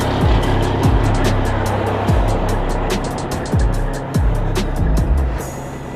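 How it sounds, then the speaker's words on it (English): Vehicles rip past on a frosty roadside one after another, each a loud rushing whoosh with a rumbling low end, passing close by in quick succession. "You need to get a shot of like cars just ripping by as we're holding these plants"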